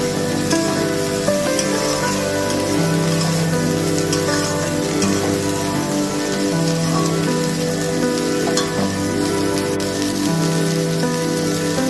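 Onions fry in a pan for vegetable upma with a steady, dense sizzle like rain on a surface, loud and close, continuing without pause and with no talking.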